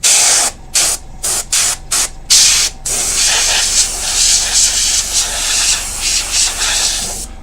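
A spray paint can coats a model in a series of short, loud hissing bursts close up, then gives one long continuous hiss.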